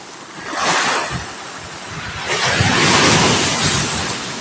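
Strong sea waves surge and crash during a typhoon, a loud, continuous roar of surf and wind noise that swells in two broad pushes, heard near from a flooded rooftop.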